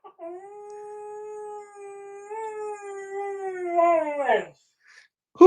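A dog howls in a long, rising and wavering tone for about four seconds, then breaks into a few rough, whimpering yips before going quiet. A brief louder noise follows at the very end.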